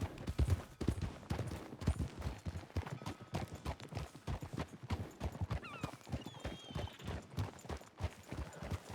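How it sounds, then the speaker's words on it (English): A horse's hooves clip-clop steadily off to one side, slightly back and around a corner, a rhythmic series of moderately loud footfalls with no talking. "I could hear his horse slightly off to my right"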